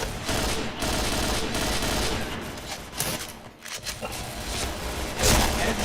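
Dense bursts of gunfire fill a PointBlank match, loud, continuous and rapid, with heavier booms near the end and faint talk beneath.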